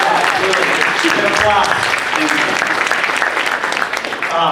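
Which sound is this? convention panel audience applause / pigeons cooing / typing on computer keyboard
convention panel audience applause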